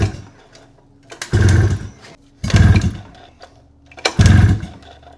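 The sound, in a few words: pull-starting a 600cc snowmobile engine on a go kart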